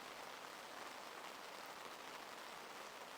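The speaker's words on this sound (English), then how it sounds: "I'm going to try and chill out a bit more and listen to this rain." Heavy rain from a storm pours down on a car during car camping, a dense, steady hiss and patter that stays even and unbroken throughout, with no voices.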